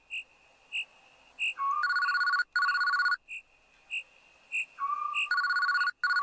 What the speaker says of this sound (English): I'm guessing it's that old timey phone, right?